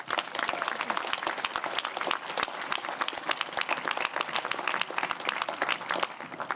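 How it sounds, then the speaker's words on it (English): Audience applause at an Ontario PC leadership debate in Ottawa, a sustained, even wash of many hands clapping, full and steady throughout with no break. "please join me in giving a warm round of applause and a welcome for Ms."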